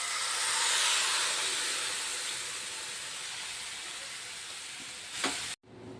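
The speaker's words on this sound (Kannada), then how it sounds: "ಇದನ್ನು ಇವಾಗ ಮೀಡಿಯಮ್ ಫ್ಲೇಮಲ್ಲಿ ಇಟ್ಕೊಂಡು ಫ್ರೈ ಮಾಡಬೇಕು" Masala thinned with a little water fries over a medium flame while making lollipop chicken, a continuous broad sizzling hiss that eases slightly over time, then a brief louder burst before it cuts off, with no talking.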